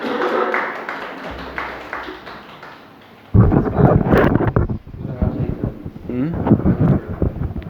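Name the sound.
audience applause at workshop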